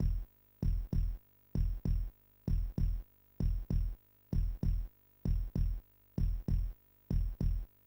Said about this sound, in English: You can hear the heartbeat getting faster because I'm behind.